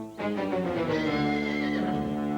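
A horse gives one long, loud whinny close up, a rising then wavering neigh with rich harmonics that trails off, heard alone without talk.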